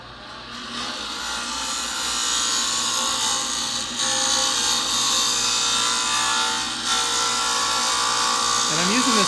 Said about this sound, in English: I'm going to finish turning this blank. I'm using my Easy Wood Tools rougher.